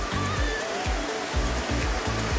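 Tahquitz Falls, a waterfall in the desert, gives a steady, full rushing roar of water close by, with no voices over it.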